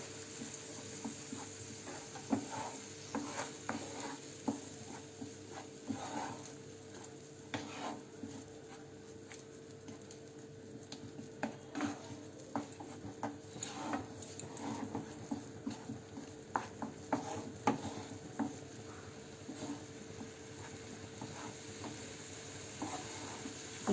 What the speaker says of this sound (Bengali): গাজরের জলটা যতক্ষণ না শুকাবে ততক্ষণ আমি একটু নাড়াচাড়া করব।